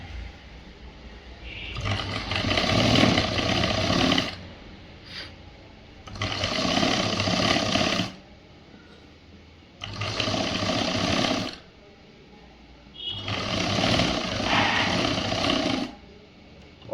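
A sewing machine stitches a boys' government school uniform shirt, running in four steady, loud whirring bursts of about two seconds each, separated by short quiet pauses.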